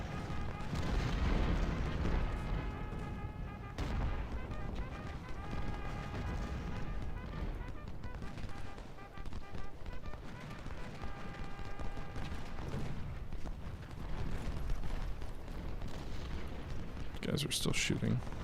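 Continuous distant volleys of musket gunfire and booming artillery from a Battle of Fredericksburg scenario in Ultimate General: Civil War, rumbling steadily with sustained musical tones and a brief burst of sharper crackle near the end.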